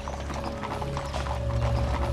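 Hooves of a harnessed horse in a driving display at a French historical theme park clip-clop steadily and close by, a continuous rhythmic clatter over a constant background hum.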